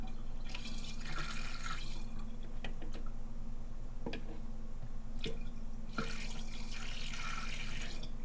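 Water pours and drips into a small aluminum tank, close and steady, with splashy bursts at the start and end over a constant low hum.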